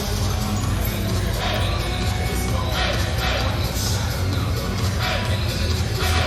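A large USA crowd at a 2023 Mosconi Cup pool match roars and cheers in a steady, loud wall of noise with swells of whooping, filling the arena continuously.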